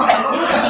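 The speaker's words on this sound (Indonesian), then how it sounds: "Arahkan ke mulut, batukan." A man coughs during a ruqyah session, one short rough expulsion of breath heard close and fairly loud.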